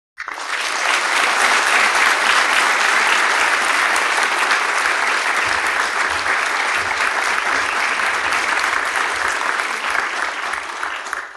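A theatre audience at a memorial night gives a standing ovation, dense sustained clapping that starts abruptly and holds at full strength for over ten seconds, close and enveloping, with no voices rising above it.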